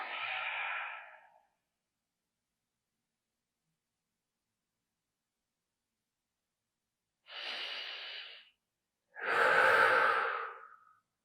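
Three slow, deep breaths are drawn close to the microphone, each a soft airy rush lasting about a second, spaced by long silent pauses, the last one the loudest.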